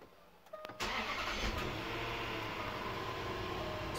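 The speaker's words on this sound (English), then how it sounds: "start the car" A Land Rover Discovery 4 engine cranks and catches about half a second in, then settles into a steady, close idle with no voices.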